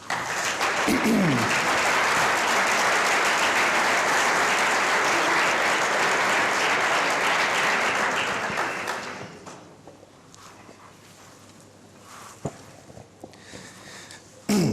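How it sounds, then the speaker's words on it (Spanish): Sustained audience applause for university students at a book presentation, a dense, even wash of many hands clapping for about nine seconds before it fades to quiet room noise with a few faint knocks. "Por favor, un aplauso para ellos"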